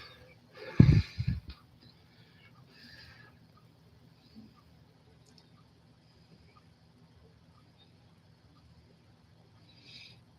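A woman snores in a quiet room: one loud rough snort near the start, then faint breathing and a soft snore at the end.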